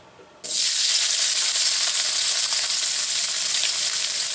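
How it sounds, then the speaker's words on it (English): Spam hits a hot wok and bursts into loud, steady sizzling that continues without pause, close by. "So let me throw the Spam in here."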